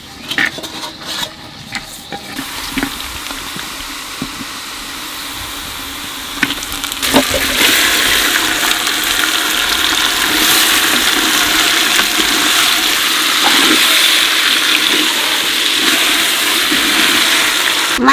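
Country chicken meat hits a pan of frying onions, with early clatter and stirring knocks giving way to a loud, steady sizzling hiss that fills the rest of the clip.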